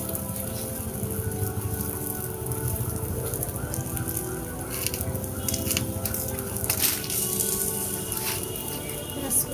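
Taro leaves frying with garlic in oil in a pan, a steady dense sizzle that runs throughout at close range, with faint speech now and then over it.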